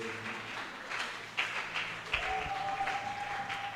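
A worship congregation applauds and cheers during a church praise moment, a steady wash of clapping from many hands with a few sharper claps standing out and a faint sustained musical tone underneath.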